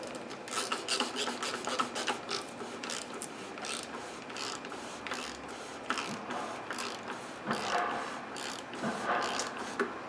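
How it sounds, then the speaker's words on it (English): A hand ratchet tightens a part during an oil change on a 2011-2018 Chrysler 300, clicking rapidly in repeated bursts for several seconds, close and fairly loud. "then you can tighten it up with your ratchet"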